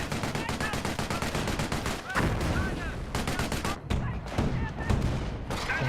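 Dense artillery barrages and rapid gunfire from the video game Company of Heroes crackle and thump continuously, with bursts of automatic fire and booming impacts. A commentator talks over the battle at times.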